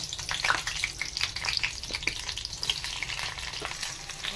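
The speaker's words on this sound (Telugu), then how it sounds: "4 పచ్చిమిరపకాయలు తీసుకున్నాను. నూనెలో కొంచెం గోలించుకోవాలి." Green chilies frying in oil in a kadai crackle with a steady close sizzle, sharp pops scattered over the hiss throughout, no voices.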